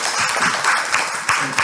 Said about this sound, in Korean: 좋은 발표해주신 연사분께 다시 한번 큰 박수 부탁드립니다